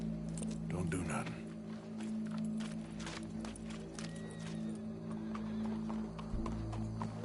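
Horse hooves clip-clop in Red Dead Redemption 2, a steady walking rhythm of faint clops beneath a low ambient hum and nearby game voices talking.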